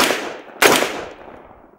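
A single sharp gunshot from a Stribog SP10A3 10mm pistol, loud and close, cracking midway and trailing off in a reverberant decay, with a fainter report just before it.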